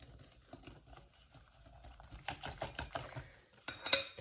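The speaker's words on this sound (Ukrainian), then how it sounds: "Все гарненько перемішуємо вінчиком." A whisk beats cookie dough made with sugar and sour cream in a bowl, soft rhythmic clicking and scraping that grows busier and louder in the second half, close and alone.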